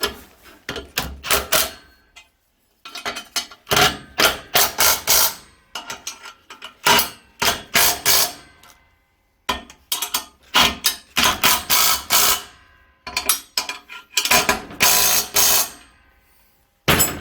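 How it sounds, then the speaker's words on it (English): An impact gun removes the nuts on an engine stand: a series of loud, close rattling bursts, each lasting about a second, separated by short pauses. "Right, impact gun."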